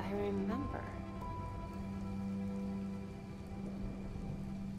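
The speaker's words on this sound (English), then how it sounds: "Man, the detail of the rain." Rain falling in the Gotham Knights video game, a soft continuous patter under game music tones and a voice talking over it.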